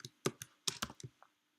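Quiet, close keystrokes on a Slovak-layout computer keyboard: about eight separate clicks in an uneven burst lasting just over a second, with no voices.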